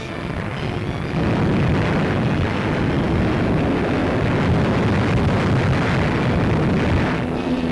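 Archival WWII footage of British and U.S. planes over the French coast before the D-Day landings: a dense, continuous roar of engines and rumbling blasts, loud and unbroken throughout.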